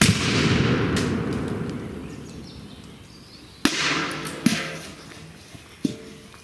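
A loud firecracker blast with a long rumbling decay opens, followed by several sharper pops spaced a second or so apart.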